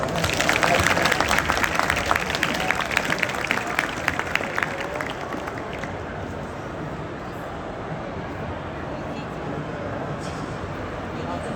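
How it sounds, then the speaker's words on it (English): A seminar audience at a jiu jitsu convention applauding, a burst of clapping and crowd noise that fades after a few seconds into murmuring room ambience. "Clap up for Sarah, guys."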